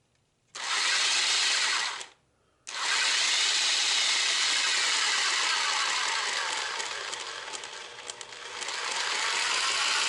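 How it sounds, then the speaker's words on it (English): A jigsaw drives the shaft of a homemade massage gun, a loud, steady buzzing motor that runs briefly, stops for half a second, then starts again and holds for about seven seconds, close with no talk. "Now I'm going to hook this back up into the jigsaw and see what happens."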